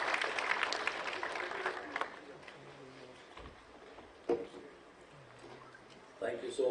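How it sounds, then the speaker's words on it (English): Audience applause welcoming a speaker at an award ceremony for INDIASOFT 2025 and India Electronics Expo, moderate clapping for about two seconds, then a quieter room with brief bursts of sound and a voice speaking toward the end. "Please join me in welcoming him with a warm round of applause"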